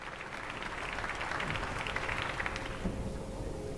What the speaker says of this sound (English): You were supposed to clap a little longer so that we play an encore for you